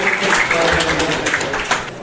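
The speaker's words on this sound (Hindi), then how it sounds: "एक बार जोरदार ताली के साथ" A seated audience claps together in steady, dense applause at the opening ceremony of the Jagdamba branch of Bharat Vikas Parishad in Bakhtiyarpur, sustained and fairly close for about two seconds.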